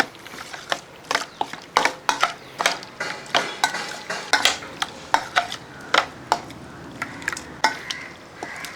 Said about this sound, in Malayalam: ഇനി ഇതൊന്ന് ഇളക്കി കൊടുക്കുക